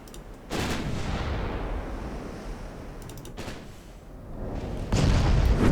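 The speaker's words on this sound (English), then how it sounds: "10-inch guns don't mess around" Heavy 10-inch naval guns fire in the warship game Ultimate Admiral Dreadnoughts, three loud booming salvos spaced a few seconds apart, each with a sharp crack followed by a long rumbling roll, with no talk.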